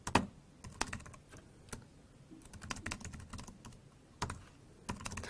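Keystrokes on a computer keyboard as commands are entered to shut down network switch interfaces, irregular close clicks in short bursts with brief pauses, alone without talk.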